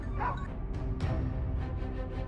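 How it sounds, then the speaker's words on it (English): Hunting dogs driving wild boars out of their den in Louisiana give a few sharp barks and yips, irregular and fairly close, over a rumbling outdoor background. "the dogs had found the boar's den and drove them out"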